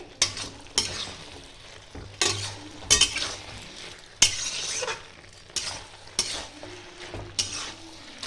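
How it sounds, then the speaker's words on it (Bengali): Cabbage chorchori being stirred in a frying pan until dry, a utensil scraping and clinking against the pan in repeated strokes over a soft sizzle, close and fairly quiet. "এইভাবে একটু ঘেঁটে দিতে হবে, একদম শুকনো শুকনো হবে যেন না রস থাকে"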